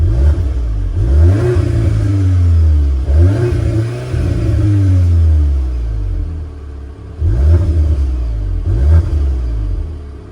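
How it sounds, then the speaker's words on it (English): A 2025 Volkswagen Golf R engine revs hard several times, the exhaust rising and falling in loud, throaty bursts with brief pauses between pulls. "I like the exhaust on this thing as is."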